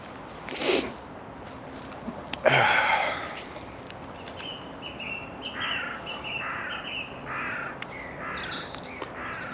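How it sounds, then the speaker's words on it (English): Crows caw repeatedly in an English churchyard graveyard, one loud harsh call near the start, then a burst of cawing and a run of rhythmic calls from several birds at middle distance over faint outdoor ambience. "Lots of birds."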